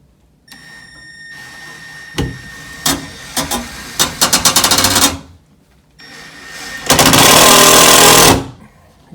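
Power tool drives screws into a drywall wall in short repeated bursts, then one longer sustained whir, close and loud with no talking.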